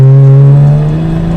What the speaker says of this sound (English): There's the turbo spool.